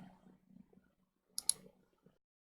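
A computer mouse clicks a few times in a quick cluster while someone works through a Nextcloud virtual server admin panel. The sharp, close, brief clicks are set against a faint low hum and near-silence.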